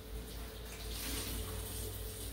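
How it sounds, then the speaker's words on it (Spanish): Tap water running over strawberries being rinsed, a steady close splashing rush that stays constant and fairly loud with no talk. "Ahorita la voy a enjuagar así nada más."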